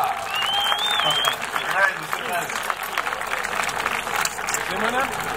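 A crowd applauding after a wrestling bout between two wrestlers, steady clapping and cheering at moderate volume under an announcer's talk.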